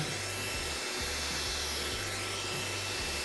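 A hair dryer blows steadily while hair is dried from roots to ends during a low taper fade haircut, a constant close airy roar with slight pulsing and no speech.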